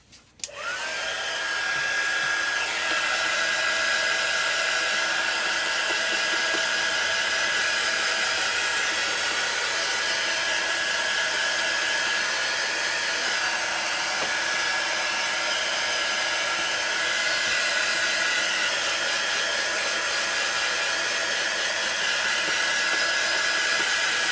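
A hair dryer blows steadily and loudly for the whole stretch, drying freshly marked graffiti paper, a continuous close whirring rush with a constant high whine and no voices.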